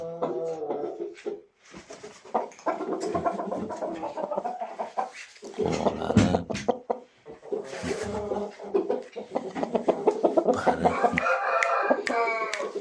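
Fighting roosters crowing and clucking nearby in a farmyard, with repeated crows and short clucks over a fairly quiet background, mixed with a little human talk.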